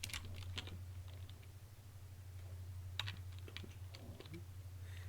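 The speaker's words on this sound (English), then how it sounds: "Well, let's just type in Winget and see what it gives you." Quiet clicking of keys on a computer keyboard, scattered keystrokes in short bursts over a steady low hum, with no one speaking.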